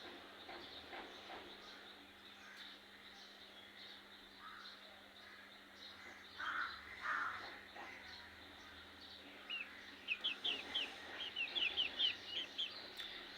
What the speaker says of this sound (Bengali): কাকগুলো কিভাবে ডাকছে দেখেন।